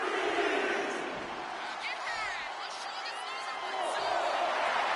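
A wrestling arena crowd in WWE 2K25 cheers and whoops in a steady, distant roar, while a commentator talks over the top of it.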